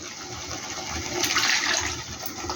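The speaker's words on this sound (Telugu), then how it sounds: "కావాల్సిన నీళ్ళు ఇప్పుడే వేసేసుకోవాలి" Water gushes and splashes into a pot of tamarind fish curry, swelling to a brief loud pour in the middle before easing.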